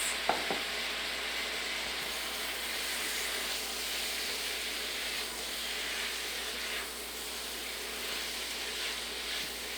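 Semi-cooked Chinese potatoes, also called koorka, being mixed in a frying pan, giving a continuous soft hissing sizzle with a brief stir clatter at the start and faint scrapes later.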